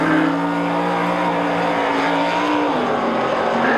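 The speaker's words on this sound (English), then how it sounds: "The number 44 Chevrolet, he sets up, he is loose in the turn." Number 44 Chevrolet race car loose through a turn on the Pikes Peak hill climb, its engine droning loud and steady with a sustained note that drops in pitch near the end, heard close.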